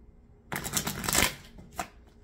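A deck of playing cards is shuffled up close for a trick, giving a loud riffling burst of about a second followed by a shorter flick, with no talking.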